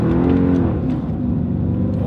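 A 2005 Mercedes CLS 55 AMG pulls hard in first gear, its engine roaring loud and continuous from inside the car with a steady low rumble as revs climb.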